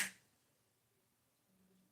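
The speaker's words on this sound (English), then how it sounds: "Snap your fingers." A single sharp finger snap right at the start, close and crisp, followed by near silence with faint low background hum.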